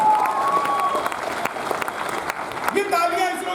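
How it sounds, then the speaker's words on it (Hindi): Audience applause at a hasya kavi sammelan comic poetry recital during a Diwali Mela in Lucknow: a steady wash of crowd clapping that runs throughout, with a voice ringing over it. "एक बार सारे लोग जोरदार तालियां हमारी अंतरिक्ष की संस्था इसरो के लिए बजाएं"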